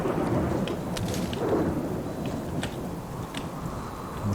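Thunderstorm in a survival video game, with steady heavy rain and a low rumble of thunder filling the scene, plus a few sharp crackles and no talking.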